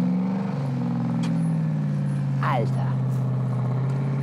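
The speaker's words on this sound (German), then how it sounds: "Das klingt mal nach bösem V8." Deep V8 engine of the Ghe-o Rescue offroad truck idling with a steady low rumble close by, while someone talks excitedly over it.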